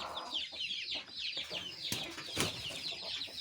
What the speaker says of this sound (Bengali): আমি আমার বাচ্চা তোলা মুরগিটাকে ছাড়ি।